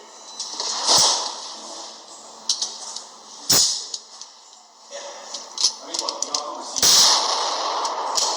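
Ruger LC9 pistol shots at a gun range ring out as three sharp, loud cracks spaced a few seconds apart, each with a short echoing tail, over steady range noise and background voices.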